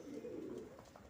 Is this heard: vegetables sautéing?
no